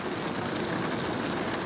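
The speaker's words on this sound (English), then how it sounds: "but it's raining" Steady rain falls outdoors as a dense, even hiss, loud and close, with no voices.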